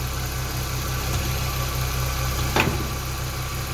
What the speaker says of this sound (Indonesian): mesin dinyalakan, terus AC dinyalakan